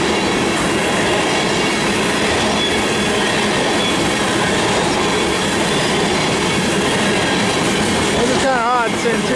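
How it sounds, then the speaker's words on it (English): A train rolls past on railway tracks as a loud, continuous rumble with rhythmic wheel clatter, and a brief wheel squeal rises near the end. "Seeing two trains together here."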